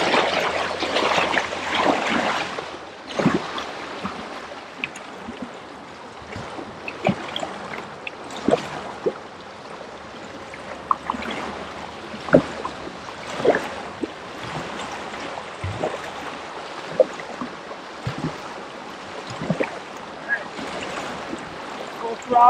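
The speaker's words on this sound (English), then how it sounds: "Full throttle with the motor, plus paddling." Small boat motor running at full throttle while a paddle pulls through creek water, a steady watery churn broken by repeated sharp splashes of paddle strokes, close by and fairly loud.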